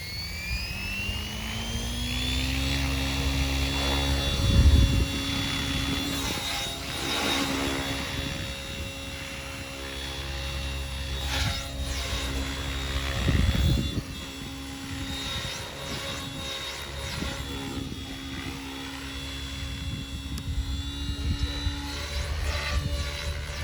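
An Oxy 5 HF radio-controlled helicopter flies steadily at low head speed, with a continuous high rotor and motor whine and a few louder swells as it passes close.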